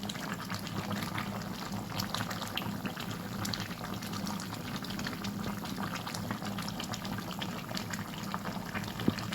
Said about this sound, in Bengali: আমার ঝোল তো টকবক করে ফুটে গেছে।